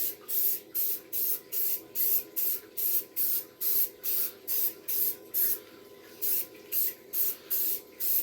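A spray gun lays a coat of finish on a wooden miller table in short, regular hissing bursts, about two per second and evenly spaced, each ending in a brief pause.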